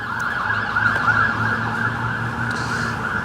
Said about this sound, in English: You see that ambulance? The ambulance is on his way